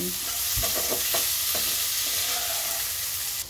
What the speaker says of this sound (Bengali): এবার ভালো করে ভাজা করে নিচ্ছি কপিগুলোকে